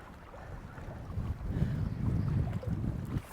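Gusty wind blows across the microphone on the coast at St Abbs in October during lure fishing, a steady low rumble that swells louder midway, with no talking.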